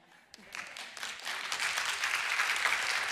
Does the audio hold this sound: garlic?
no